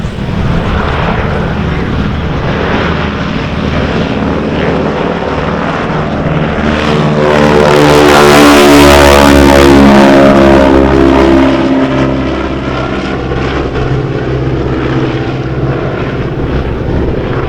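A 1929 Ford Trimotor's three propeller engines roar steadily, the drone swelling to a loud close pass in the middle and easing away again, with no voices.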